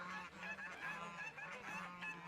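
Several geese honk back and forth in loud, overlapping bursts, a harsh squabbling chorus at moderate distance.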